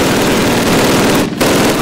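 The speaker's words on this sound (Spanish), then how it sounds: "Sargento, dispare esas ametralladoras." Rapid machine-gun fire in a Call of Duty battlefield scene, loud and continuous for nearly two seconds with a brief dip near the end, dense bursts layered over battle noise.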